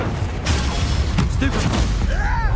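A Confringo blasting spell goes off in the Hogwarts Legacy video game, with a booming burst and crackle over dense combat noise and game sounds, followed by a sweeping magical whoosh.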